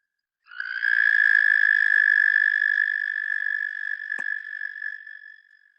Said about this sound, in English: this is the Eastern American toad, and he's singing in Pennsylvania